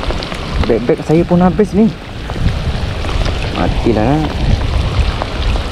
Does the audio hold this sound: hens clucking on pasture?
no